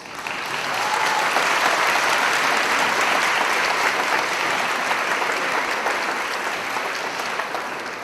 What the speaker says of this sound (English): How about a round of applause from you to your families?